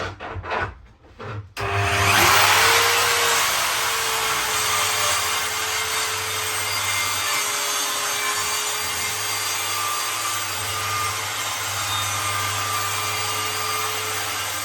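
A track saw rips through wood along a guide rail, a loud steady whining cut of about twelve seconds after a brief motor start, heard alone and close.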